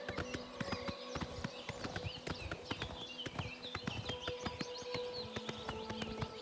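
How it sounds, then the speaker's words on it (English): A steady walk of hooves knocks on the planks of a wooden bridge in Oblivion Remaster, a close, regular clip-clop with bright chirping birds scattered over the top. "Hear the horse's footsteps on the wood compared to the ground."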